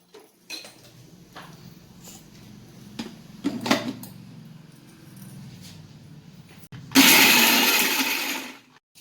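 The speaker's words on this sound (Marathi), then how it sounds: "आता हे आपण मिक्सरच्या पॉटमध्ये काढून घ्यायचं आणि छान असं मिक्सर करून घ्यायचं" After some handling clatter and clinks of a jar being set in place, a mixer grinder starts up and runs loudly for about two seconds, whirring through a garlic and rice chutney before stopping.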